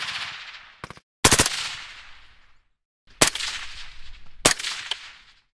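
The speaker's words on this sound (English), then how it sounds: "There's a separate folder for suppressed shot sounds." Suppressed M4 automatic rifle shots: four sharp, close cracks heard alone, one single and one short burst, each followed by a fading tail of ringing reverberation.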